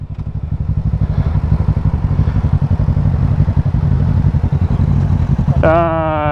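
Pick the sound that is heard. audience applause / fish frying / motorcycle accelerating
motorcycle accelerating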